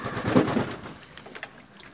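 Pigeons inside a loft give a short burst of soft, throaty cooing up close. The sound then fades to quieter rustling and faint calls.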